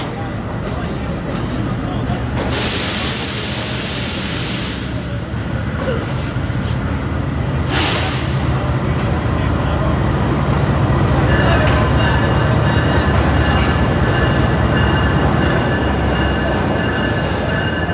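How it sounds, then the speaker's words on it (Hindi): A Green Line passenger train approaching Lahore Junction in Pakistan: a steady, loud rumble of wheels and carriages runs throughout, with two brief bursts of hiss and rising tonal whine from the rails toward the end. "ट्रेन हमारी अप्रोच कर रही है लाहौर जंक्शन"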